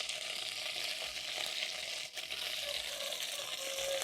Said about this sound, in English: While the liver is searing